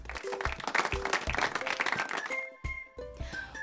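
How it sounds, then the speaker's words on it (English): Applause from a group, bright and busy, clapping that runs through the clip with sustained musical tones and repeated low thumps underneath, easing off in the final second. "Everyone clapped for Boaz being such a loving helper to his family."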